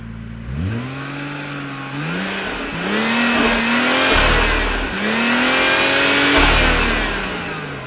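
A 2016 BMW 340i xDrive with a single-turbo inline six and Dinan exhaust revs hard from outside the car. The engine climbs loudly in repeated rising pulls with a strong intake note, and no one speaks.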